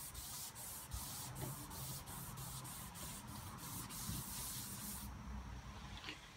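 General Finishes salad bowl finish is wiped onto walnut wood in a series of rhythmic rubbing strokes, a soft repeated swishing hiss, close but quiet, with no talking.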